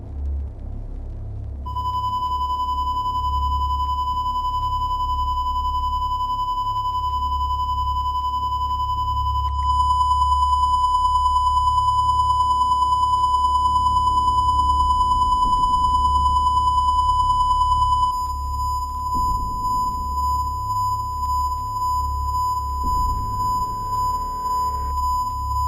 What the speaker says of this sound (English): show him some distorted signals